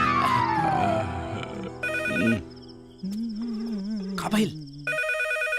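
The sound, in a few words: landline telephone ringing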